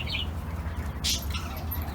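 A zebra dove (merbok), a young bird still being trained, gives a few short, high chirping call notes over a noisy, rumbling background.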